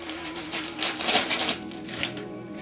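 Scissors cutting through Christmas wrapping paper, a close, dry rasping and rustling of paper with small uneven bursts and no talking.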